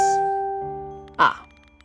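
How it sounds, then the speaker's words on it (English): A single bright phone notification chime rings out near the end, short and clear, over a faint steady tonal hum in a room at home. "my notifications popped on"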